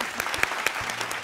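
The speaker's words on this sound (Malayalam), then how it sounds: "ഒരു കയ്യടി കൊടുത്തേ പറ്റുള്ളൂ" A studio audience at a television entertainment show gives a short burst of applause, a brisk round of clapping with a few sharper individual claps standing out.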